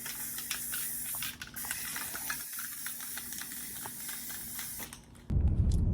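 A 200cc go kart being spray painted with a can, giving a run of short and longer hissing bursts with brief pauses between them, followed at the end by a loud low thump and rumble.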